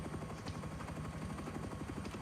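A helicopter in the survival video game Rust gives a steady, fast rotor chop that runs without a break at moderate volume, with no talking over it.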